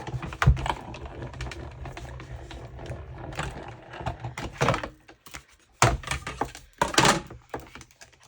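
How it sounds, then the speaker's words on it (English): A cut and emboss machine feeding a crafting piece through its rollers, giving a close, grinding, clicking mechanical rumble that rises into louder thumps and rattles near the end. "bring in my cut and emboss machine over here. And I'm just going to run this through"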